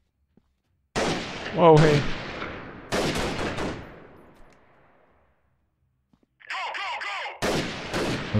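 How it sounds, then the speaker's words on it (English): Gunfire in the video game Freeman Guerrilla Warfare, several sharp loud shots and short bursts separated by silent gaps, with a brief electronic game sound between them and a man exclaiming once. "Somebody's firing."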